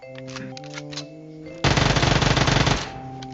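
Automatic gunfire in the battle royale game PUBG sounds as one loud, rapid burst of about a second, cutting in abruptly after a stretch of quieter game tones.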